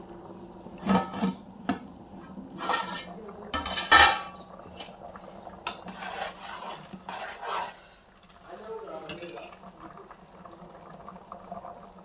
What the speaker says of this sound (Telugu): మూత వేసుకొని అన్నం ఉడకనిద్దాం